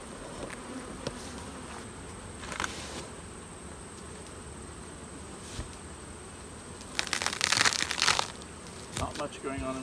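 Honey bees hum steadily around a single brood chamber hive, a continuous low insect drone with brief crackles and rustles from handling the frames, growing busier and louder for a moment near the end.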